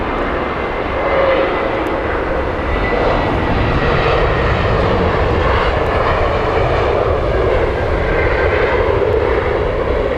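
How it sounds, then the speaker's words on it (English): An Egypt Air jet airliner taxis at Heathrow Airport, its engines giving a loud, steady roar and whine that stays close and unbroken throughout, with no talking. "There is Egypt Air, beautiful plane. Just taxiing past us."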